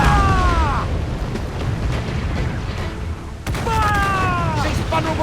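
Ship cannon fire in the naval game Assassin's Creed Black Flag: broadband booms roll out under dense crew shouting, with a sharp fresh blast midway and another rising call after it, loud and close amid battle noise.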